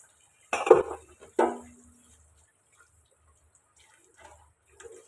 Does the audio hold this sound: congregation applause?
no